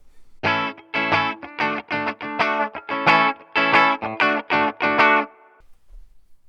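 An electric guitar through a Boss GE-7 EQ pedal set for a mid hump plays a run of distorted, sustained notes with a thick, boosted midrange and heavy reverb, each note ringing out before the next, then fading.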